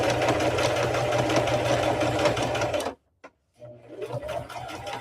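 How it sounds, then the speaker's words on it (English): Sewing machine stitching quilt blocks together, a steady fast whir for about three seconds, then a brief stop and a restart at a slower, quieter pace. "Just sewing our little blocks together."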